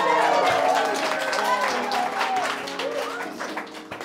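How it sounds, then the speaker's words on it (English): Studio audience clapping at a live comedy taping, a steady dense patter of applause that stays loud across the whole stretch and thins a little toward the end, with musical tones running underneath. "I love that we're clapping to this"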